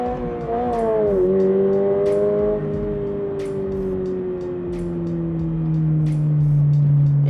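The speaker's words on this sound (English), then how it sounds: "there's definitely some more rev hang in this than in the 22 WRX" A Subaru sports car engine revs up sharply, then its pitch sinks only slowly as the revs hang, a loud close drone with faint clicks and whirs over it.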